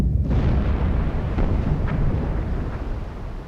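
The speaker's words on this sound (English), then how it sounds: "Torpedo impact!" A torpedo strikes a ship in Silent Hunter 4, bursting into a loud, rolling explosion that rumbles heavily and slowly fades over a few seconds.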